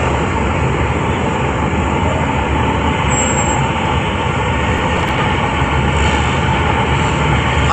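A light rail train rolls past near a shopping mall, producing a loud, steady broadband rumble that persists unbroken for several seconds without any voices over it.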